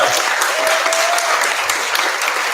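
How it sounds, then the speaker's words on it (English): A forum audience for Virginia Beach mayor and sheriff candidates applauds the moderators and timekeeper, loud close clapping sustained throughout, with a faint whistle briefly cutting through. "Let's give them a great round of applause."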